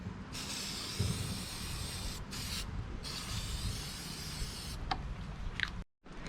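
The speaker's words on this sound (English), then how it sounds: "Spraying some terminal protector." Aerosol battery terminal protector sprayed onto the battery terminals of a 1999 Ford Expedition, a steady close hiss running several seconds with two brief pauses between bursts before cutting off.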